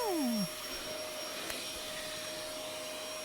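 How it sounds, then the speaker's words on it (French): A vacuum cleaner cleaning a Dell PC spins down from a high whine after half a second, leaving a steady faint hum with a small click near the middle. "On prend l'aspirateur"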